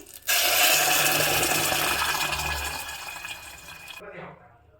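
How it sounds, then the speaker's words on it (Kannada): Water poured in a continuous splashing stream for about four seconds into a pot of Udupi-style rasam with cooked toor dal, then cut off, leaving a brief trickle and drip. "ನೋಡಿ ಇದಕ್ಕೀಗ ಸ್ವಲ್ಪ ನೀರನ್ನು ಸಹ ಹಾಕ್ಕೋತಾ ಇದ್ದೀನಿ"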